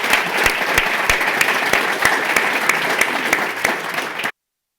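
An audience at a breakfast event claps steadily and loudly for about four seconds with distinct sharp claps, then stops abruptly into silence.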